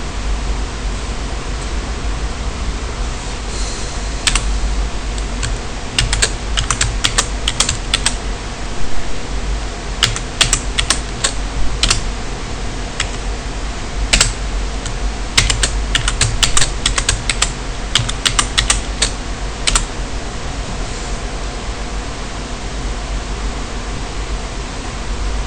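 Password being typed on a computer keyboard, irregular bursts of sharp key clicks over a steady hiss of background noise, with quiet pauses between the clusters.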